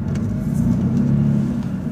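Supercharged V6 car engine droning steadily from inside the car while driving, a continuous low rumble holding even throughout with no voices.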